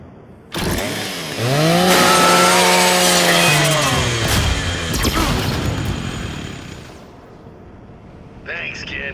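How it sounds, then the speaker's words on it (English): A Lancer rifle's chainsaw in the video game Gears 5 revs up with a rising whine and grinds loudly for several seconds, then winds down to a faint hum. "Just use your Lancer's chainsaw."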